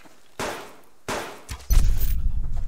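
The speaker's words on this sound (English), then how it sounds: "Hear more gunfire." Gunfire in the survival video game Subsistence: two sharp, loud reports with decaying tails, a small knock, then a heavier burst of rumbling, rattling impacts that continues to the end.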